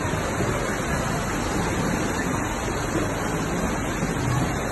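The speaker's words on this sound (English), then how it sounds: "That's a lot of friggin' water, man." A large volume of water rushes and roars from a playing video, likely tsunami flooding, a dense, loud, unbroken wash of noise.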